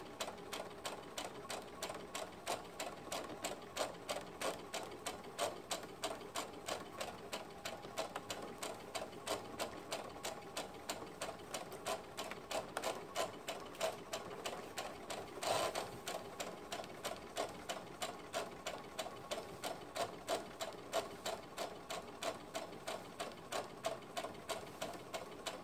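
A sewing machine stitches a skirt seam around a curve with a steady, rapid, quiet mechanical ticking that continues unbroken throughout.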